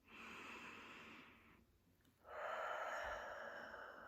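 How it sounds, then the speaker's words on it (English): A slow, deep breath drawn in through the nose during a guided meditation, heard as a soft, airy rush that pauses briefly before a second, fuller inhale. "perhaps placing a hand on your tummy to feel your diaphragm expand as you breathe in"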